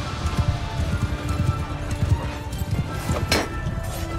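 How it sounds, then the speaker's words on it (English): Horse galloping in the Mount & Blade 2: Bannerlord video game, with steady rapid hoofbeats close up amid battle noise and a short sharp burst near the end. "Oh, you hit my horse, huh?"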